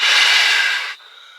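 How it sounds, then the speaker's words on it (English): A man blows hard into an air mattress at a truck-camping tent site, one long, close, breathy exhale that cuts off abruptly into a faint whistling hiss. "heavy breathing in the background"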